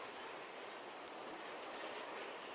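The Big Thunder Mountain Railroad roller coaster train at Disneyland rumbles steadily along its track, a loud continuous roar with rattling wheels, no voices.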